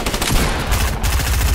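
Rapid bursts of gunfire from a multiplayer shooter game with a bomb objective, dense and continuous across the whole moment, loud and close, with no talk over it.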